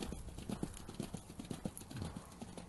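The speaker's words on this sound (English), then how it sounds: "Lovely composed horses, a little bit wet here this morning." Racehorses' hooves clip-clop steadily on a wet track during morning work at a training gallop, a brisk rhythmic beat of hoof strikes at moderate distance with a faint voice in the background.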